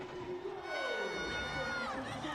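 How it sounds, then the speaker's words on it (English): Women's field hockey crowd in a stadium erupting into loud, sustained cheering and shouting after an equalizing goal in a Hero Hockey India League match, a dense roar of many voices with a commentator audible over it. "look at the crowd go in raptures"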